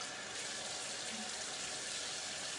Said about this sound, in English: I'm going to get my face wet with some warm water.